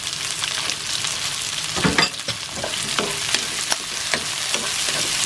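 Shiitake mushrooms stir-fry in a hot pan for a sweet and sour pork dish, with a steady sizzle broken by repeated scraping and clacking strokes of a spatula, close and alone.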